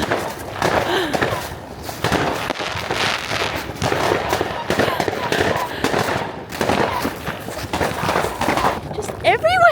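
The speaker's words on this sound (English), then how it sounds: "Just everywhere has fireworks!" Repeated sharp bangs and crackling bursts of New Year's fireworks in Germany fill the snowy scene, mixed with people talking and shouting nearby, with a whistling rocket rising near the end.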